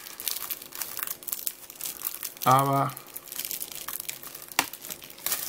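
Plastic wrap crinkles and rustles steadily as a Blu-ray package is unwrapped close by, with one brief squeaky stretch and a sharp crackle near the end; a voice speaks briefly.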